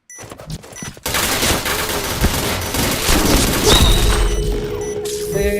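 Loud, sustained automatic gunfire and booming shots in a video game, starting abruptly after a few quiet clicks and continuing as a dense, close barrage.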